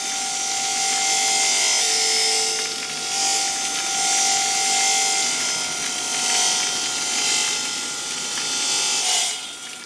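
A mosaic maker works with saw, hammer and chisel in a workshop, producing steady close scraping and grinding with rasping strokes and faint metallic tones throughout.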